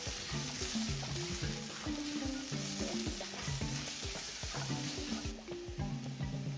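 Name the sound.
sautéing coriander powder and garam masala in a pan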